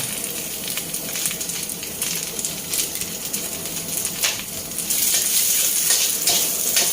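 Cabbage stir-fries hard in hot oil in a wok with fish sauce, a loud continuous sizzle with scraping tosses of the spatula, close by, the hiss swelling stronger toward the end.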